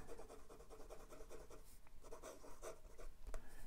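Nib scratching across paper as a flexible fountain pen writes, a Leonardo Momento Zero Grande with a Corsani or Jonathan Brooks finish; close, soft, steady rhythmic strokes with no talk.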